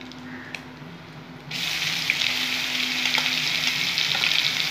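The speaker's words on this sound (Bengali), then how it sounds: "পেঁয়াজ বাটাটা আমি দিয়ে দেবো" Onion paste hitting hot oil in a pan for a prawn masala gravy: a quiet hum, then a sudden loud hissing sizzle that bursts in and holds steady to the end.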